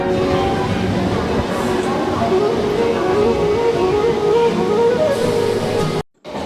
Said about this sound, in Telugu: ఈ ట్రైన్ సౌండ్ వింటూ అలా కూర్చుంటే